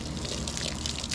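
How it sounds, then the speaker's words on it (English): Water pours onto a glitter tumbler coated with a dish soap pattern, a short continuous splashing rush close by and fairly steady, with no talk. "Then you're supposed to be able to pour water on it right away."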